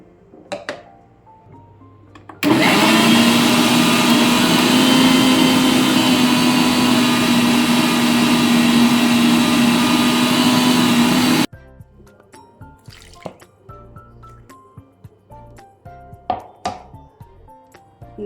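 A mixer grinder runs loud and steady for about nine seconds, grinding a mixture with oil and water while making ghee, then cuts off abruptly and leaves quiet kitchen clinks and taps.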